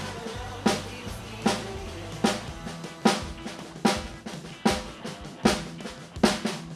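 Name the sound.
drum 16th notes with snare accents on upbeats, hands only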